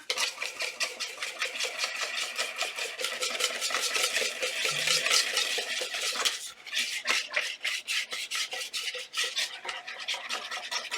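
A small spoon stirs a fake blood mixture in a container, with rapid, rhythmic scraping and clinking of metal against the dish, close and fairly loud, then slower separate strokes toward the end.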